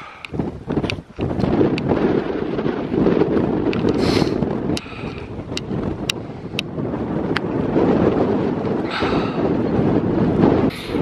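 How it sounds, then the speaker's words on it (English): Strong wind roars continuously against the microphone high on an arctic mountainside at about 1100 meters, loud gusty buffeting filling the whole stretch with brief crackles and no speech. "The wind is blowing so hard."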